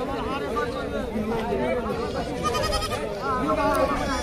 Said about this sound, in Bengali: এখানে একটা পাঁটা উঠেছে দেখি